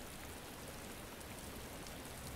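Rain falling outside, a soft, continuous hiss of drops, faint and even throughout with no voices.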